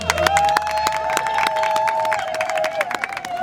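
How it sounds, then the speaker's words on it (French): Guests at a Congolese wedding ceremony cheering and acclaiming together: a sustained crowd roar with rhythmic clapping and shouts, loud and continuous, with a long sung or shouted tone running through it. "Alors acclamons le Seigneur."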